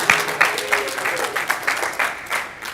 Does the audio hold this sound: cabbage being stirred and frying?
no